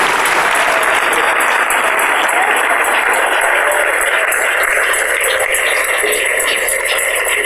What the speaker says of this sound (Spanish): Dele ese aplauso al Rey en esta noche